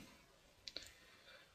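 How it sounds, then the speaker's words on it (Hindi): A computer mouse gives a quick double-click, two sharp, close, faint clicks in rapid succession over a quiet background hum. "हम इस पर डबल क्लिक करते हैं।"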